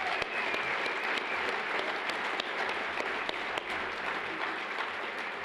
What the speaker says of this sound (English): I want to give them another round of applause for their support